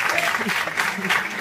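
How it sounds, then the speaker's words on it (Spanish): An audience applauds at a sales and customer-service conference lecture, a steady burst of clapping from a room of listeners, with a voice over it. "Venga, le damos un aplauso a Raquel."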